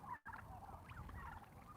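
Turkeys gobbling outdoors at dusk on a farm as they spread out to graze, a flock calling in repeated warbling bursts at moderate distance, steady and unbroken apart from a brief dropout.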